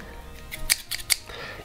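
Scissors snip through a piece of wire cut to about 30 cm for a homemade bombilla cleaning brush, giving three sharp close metallic clicks in quick succession in a quiet room.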